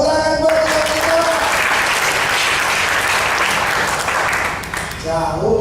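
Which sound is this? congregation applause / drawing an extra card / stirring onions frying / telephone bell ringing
congregation applause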